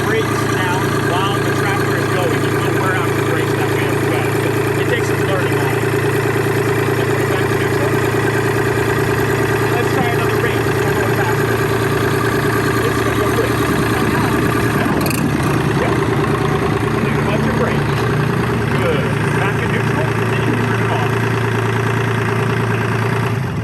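A manual gear-drive tractor engine idles steadily while shifting into reverse, a continuous low droning rumble with a constant hum and no clear change in pitch throughout.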